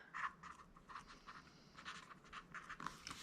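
Zebra Click Art pen scratching across the pages of a 2026 B6 daily planner, a close, steady run of short pen strokes with brief pauses, faint and unaccompanied by voices.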